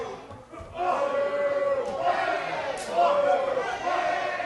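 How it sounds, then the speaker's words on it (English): A wrestling crowd cheers and roars through a KO/submission match, a loud swelling arena din that rises and falls under steady commentator talk. "Crowd getting into it."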